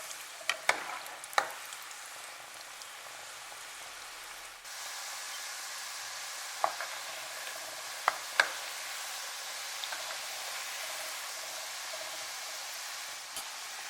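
Small pignolata dough balls fry in oil with a soft, even crackle, punctuated by a few sharp clicks and taps from utensils; the frying grows slightly fuller partway through.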